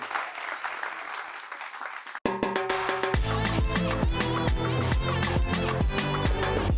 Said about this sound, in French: Michael, Kadja et Yves Parfait, Gao, qu'on applaudit très fort jusqu'à ce qu'ils arrivent